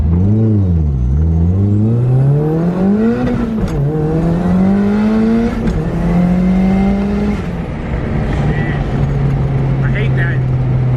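A Mazda Miata engine revs and pulls hard while driving, its note dipping, then climbing through gears before settling into a steady loud drone up close.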